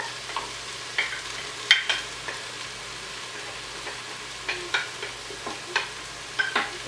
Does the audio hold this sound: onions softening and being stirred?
yes